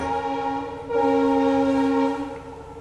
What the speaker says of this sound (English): I will go ahead and do the usual closing here as the train goes by